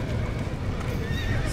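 Horses neigh and gallop in Red Dead Redemption, a loud dense rumble of hooves with a whinny cutting through, all packed into a brief moment.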